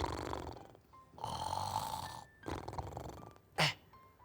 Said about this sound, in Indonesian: Tapi tikus putih masih nampak ngorok.